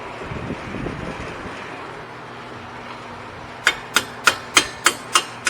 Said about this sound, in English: oh, you're hammering sockets